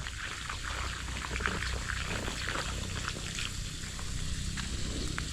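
Garden hose left running onto wet soil in a vegetable plot with eggplant and papaya, a steady pouring, splashing wash of water that continues evenly at moderate level throughout, with no talking.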